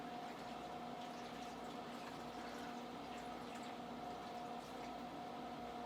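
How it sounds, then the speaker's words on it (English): Water pouring steadily into the back chamber of an aquarium filter, a continuous close trickling and gurgling with a faint hum underneath, no speech. "fill this back chamber until it's filled with water"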